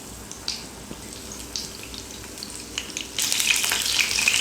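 Sankara fish frying on a tawa over a low flame, a steady soft sizzle with small crackles that swells into louder, brighter spitting toward the end.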